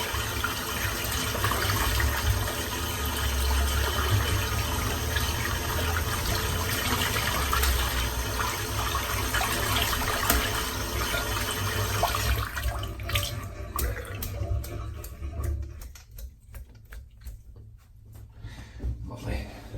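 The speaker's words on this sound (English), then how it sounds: "Rinse the brush out." Tap water runs steadily into a sink while a shaving brush is rinsed, a loud continuous gush that stops near the end, leaving faint drips and handling noises.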